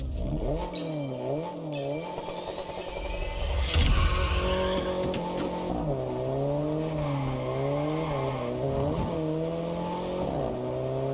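Car driving in the racing video game Test Drive Unlimited Solar Crown, engine whining up and down through gear shifts with tire skids and squeals, plus a brief heavier thump midway; no talk.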